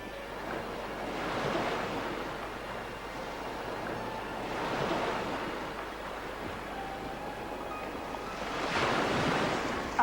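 Sea waves roll in and break in three slow swells, each a broad surging wash rising and fading, with wind noise buffeting the microphone throughout.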